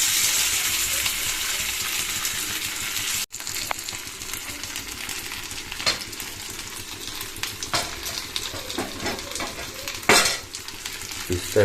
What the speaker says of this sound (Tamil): ஃபிஷ்ஷை அப்படியே ஃப்ரை பண்ணி நகர்த்தி ஃப்ரை பண்ணிக்கலாம்.